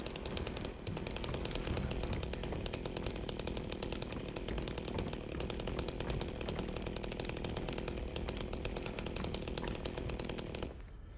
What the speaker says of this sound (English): Kind of hard to hit them with the chainsaw while they're on the floor.